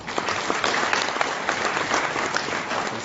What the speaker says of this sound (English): I request all the students to kindly keep clapping.